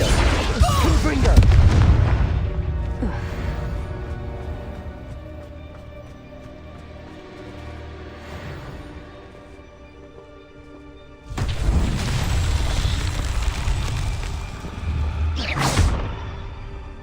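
Confringo blasting spells go off in the Hogwarts Legacy video game as loud, booming explosions. They come as a heavy burst early on and a second sustained run of blasts near the end, over steady game sound.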